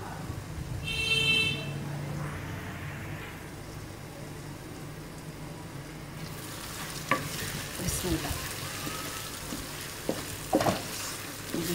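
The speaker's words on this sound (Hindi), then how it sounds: "देखिए चिकन हमारा फ्राई हो गया अच्छी तरह से" Chicken frying in a pan with a steady sizzle throughout, punctuated by a few stirring clatters and scrapes in the second half, moderately close with no talking.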